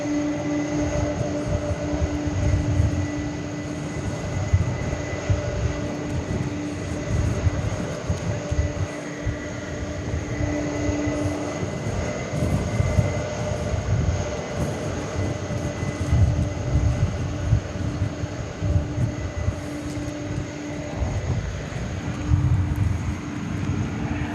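Airplanes at DFW Airport at night make a continuous, moderately loud jet engine roar and rumble with a steady tonal whine, heard without speech.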